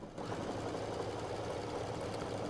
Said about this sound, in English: I'm gonna do my favorite little triple top stitch thing at a 4mm